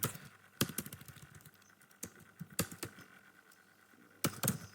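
Keys clatter on a computer keyboard during a basic computer class, with irregular bursts of fast typing and some sharper, louder key strikes, near and fairly quiet.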